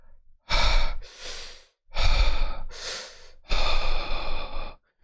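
A voice imitates heavy, creepy breathing: several loud, close breaths in and out, rasping and drawn out, with short pauses between them.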